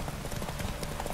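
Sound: horse galloping in the video game The Witcher 3

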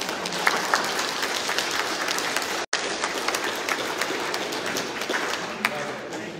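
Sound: congregation round of applause

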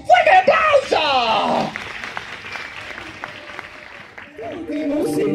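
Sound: audience applause for the Tutti Musi

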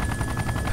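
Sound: helicopter flying in video game ArmA 2

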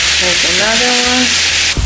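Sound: beans boiling in a pot

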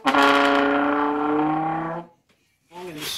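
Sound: trombone imitating a motorcycle

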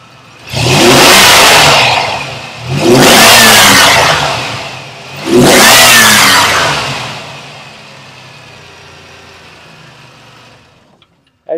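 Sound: 1995 Chevrolet Camaro convertible engine revving

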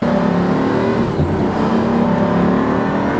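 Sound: Pagani Huayra hypercar engine with single clutch kick

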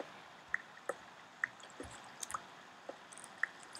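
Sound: dripping water in Minecraft cave, video game

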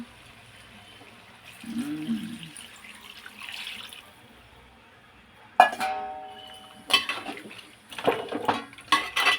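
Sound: water being poured into tomato curry

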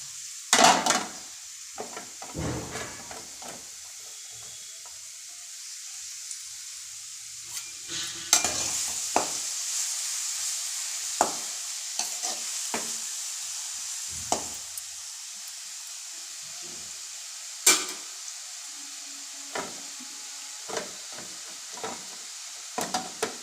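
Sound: carrots frying and stirred in hot oil

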